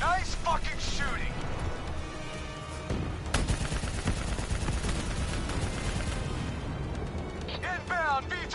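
Heavy gunfire and explosions from a Call of Duty Black Ops 3 campaign battle rage continuously and loudly, with bursts and booms layered over each other while voices shout over the combat.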